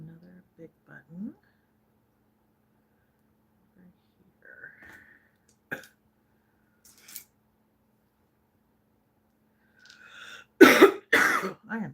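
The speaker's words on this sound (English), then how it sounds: "I am so sorry for coughing." A woman coughs hard several times near the end, loud and close, after scattered quiet rustles and brief sounds in an otherwise silent room.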